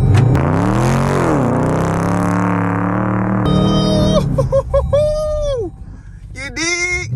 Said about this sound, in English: I'm going to turn the wheel all the way real quick.